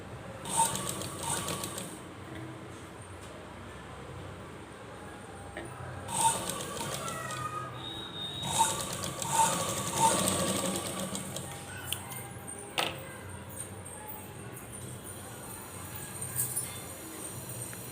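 A sewing machine stitches a cord into a fancy dress in several short, irregular bursts of rattling motor noise, separated by quieter stretches of room sound.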